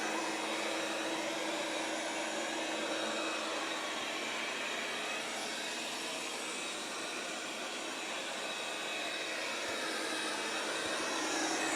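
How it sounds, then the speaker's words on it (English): A Dreame L10s Pro Ultra robot vacuum runs in vacuum-only mode over scattered oats and red pepper, giving a steady, even suction whir with a faint airy hiss that stays constant throughout and has no speech over it. "Notice the mopping pads are raised in the vacuum only mode, so they are not touching the ground."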